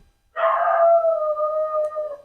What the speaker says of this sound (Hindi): अरे भाई कुत्ता जी